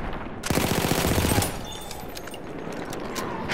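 A machine gun in Battlefield 1 fires one loud, rapid close burst of about a second, then tails off into a lingering battlefield rumble.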